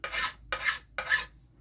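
A rasp files an axe handle with three even strokes, each a close, dry, scratchy rasp of about a quarter second, separated by short pauses.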